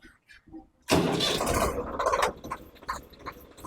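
A Swaraj 855 FE tractor with shuttle shift surges from a quiet idle into a loud, steady engine roar that holds and then eases back with uneven rumbling, no speech over it.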